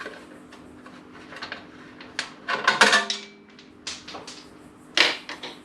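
A small metal spacer from a twin-turbo Subaru Forester falls onto the ground beside the car, making a few bright metallic clinks and taps, with a sharp close ting in the middle and another near the end.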